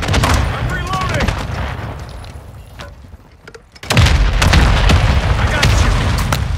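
An artillery fire mission in MW3 Zombies brings loud, dense bursts of explosions and gunfire, easing off for a moment before a heavy barrage resumes and continues.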